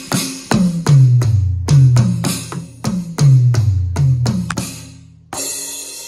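A Yamaha DTX6 electronic drum kit is played up close in a loud, punchy fill of tom hits descending in pitch, with sharp kick and snare strikes, a brief pause, then a crashing cymbal wash at the end.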